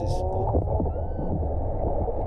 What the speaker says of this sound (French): ça c'est la baleine qui meugle